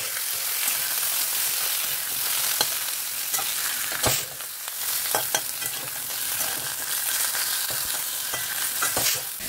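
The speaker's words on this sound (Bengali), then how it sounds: "মাছের মাথাটা ভাজা হোক" Fish heads fry in a hot pan, giving a loud, steady hiss of sizzling oil with scattered pops and crackles across the whole stretch; no one speaks.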